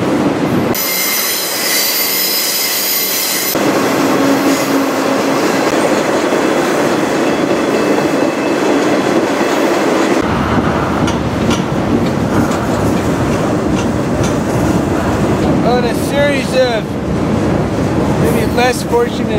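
A freight train rolls on rails while being ridden, with a loud steady roar, clattering wheels and scattered high metallic squeals, heard close from aboard a car.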